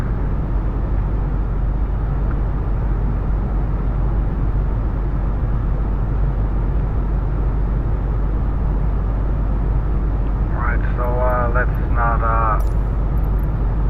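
Steady broadband roar of an Airbus A32NX airliner engine heard from the cabin window in a flight simulator, continuous and close throughout, with a brief burst of speech near the end.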